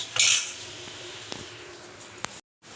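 Spoon and plate clinking as food is served for a Janmashtami fast meal: a bright metallic clatter near the start, then scattered light taps and scrapes, close and moderately loud, ending in silence.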